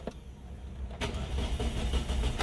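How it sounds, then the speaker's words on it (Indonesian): A 2004 Suzuki Karimun GX with a carbureted engine cranks briefly, then catches after about a second into a steady, rough idle, close by and fairly loud, with no talking. "mesin agak susah dinyalain ya"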